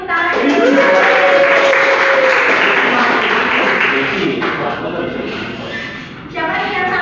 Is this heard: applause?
yes